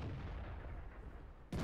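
Artillery fire in the World of Tanks video game: a steady dull rumble of battle noise, then a loud, sudden broadband blast near the end that stays up to the cut.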